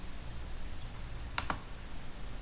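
Two quick, crisp computer mouse clicks in close succession, near and distinct over a steady background hiss.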